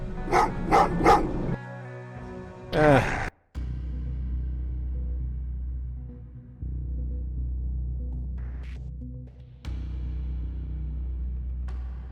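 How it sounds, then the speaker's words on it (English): Dogs in the Terminator: Resistance video game let out a quick burst of several loud, close barks, followed by a low droning hum and sparse game sounds. "Oh, what's with the dogs?"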